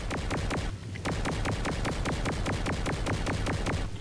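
Rapid automatic gunfire in Saints Row IV, a steady stream of sharp, evenly spaced shots about five per second, loud and close, continuing for several seconds with only a brief dip.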